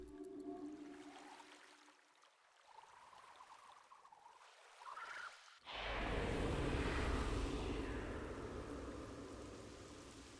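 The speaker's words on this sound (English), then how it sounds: "he makes it rain" Rain sound effect from the game Myst V: End of Ages, a soft patter that builds abruptly into a steady, loud broadband shower of rain falling onto stone holes, continuing evenly to the end.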